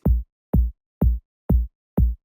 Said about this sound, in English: The next thing is this muted kick,